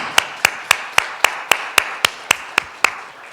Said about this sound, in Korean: 이들을 위해서 감사의 박수 한번 하겠습니다.